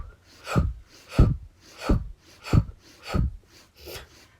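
Slow, long, deep breaths in and out during a meditation drawing exercise, six strong, close exhales or gasping inhales spaced about every 0.6 seconds, each swelling and fading with quiet breath noise in between.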